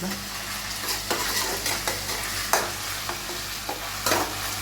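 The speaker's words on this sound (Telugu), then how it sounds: "అల్లం వేసినాక ఇలా మంచిగా కలపాలి" Onions and ginger paste frying in oil for mutton biryani, being stirred, a continuous loud sizzle broken by repeated spoon scrapes and knocks against the pan.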